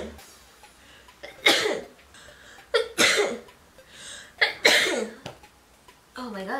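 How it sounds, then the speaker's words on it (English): A person sneezes repeatedly, three sharp, loud bursts spaced a second or two apart, with breathy gasps and vocal sounds between them. "I'm sorry guys, but I had to stop the video because I was sneezing"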